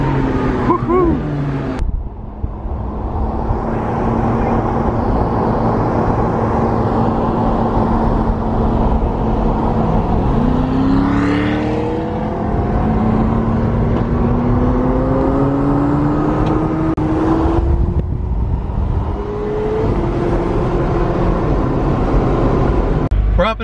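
Chevrolet C8 Corvette accelerating on the road, a steady loud engine roar with rising pitch sweeps as it revs through gears, heard from inside the car with occasional voices over it.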